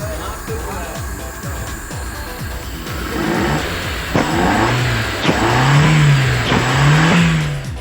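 A Mitsubishi Lancer with a newly replaced throttle starts up and revs in a repair workshop. A mid-pitched engine rises and falls in several loud, drawn-out revs that grow stronger toward the end, with people talking in the background.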